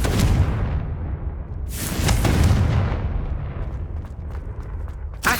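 A Confringo fire spell in Hogwarts Legacy erupts in two heavy, booming explosions, each with a long roaring tail, followed by scattered crackling debris and a sharp pop at the close.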